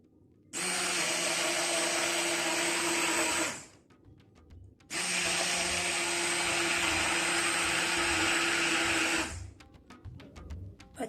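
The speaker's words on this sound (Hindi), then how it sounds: "अब मैं इसको ब्लेंड कर लेती हूँ और इसके बाद ये रेडी हो जाएगा।" A blender purees cooled red lentil soup in two long, loud whirring bursts of about four seconds each, separated by a pause with faint clinks and stops.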